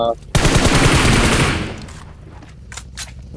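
A sniper rifle shot in the mobile battle-royale game BGMI lands as a loud, sudden burst that rolls on for about a second before fading, followed by faint scattered clicks.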